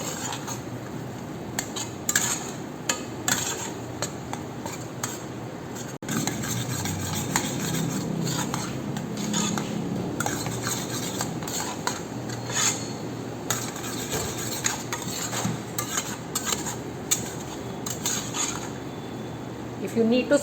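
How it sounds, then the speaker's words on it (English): Mawa, sugar and moong dal mixture being fried and stirred in a pan, with steady metallic scraping and clinking of the spoon throughout and no voices. "We will continue frying this further."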